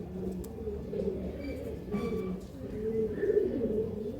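Several pigeons kept for sale coo in low, rolling, overlapping calls that run steadily throughout, fairly close and moderately loud, with a brief higher scrape midway.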